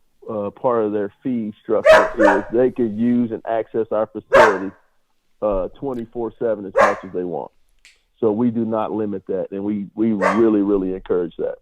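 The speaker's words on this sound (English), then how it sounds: "That's my dog barking at somebody at the door." A dog barks at somebody at the door in the background, a few sharp barks heard beneath steady, continuous talking from a nearby speaker.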